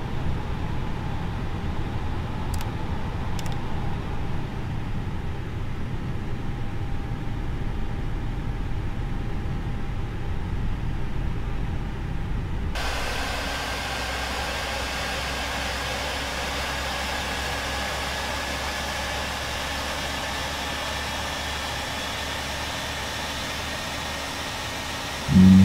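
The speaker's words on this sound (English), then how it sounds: "Starting engine 2." An Airbus A320's number 2 engine spools up in Microsoft Flight Simulator 2020, a steady whining hum that builds into a constant even drone, heard alone with no voices.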